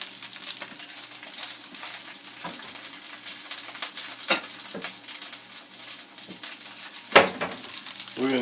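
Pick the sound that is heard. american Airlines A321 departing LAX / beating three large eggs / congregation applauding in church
beating three large eggs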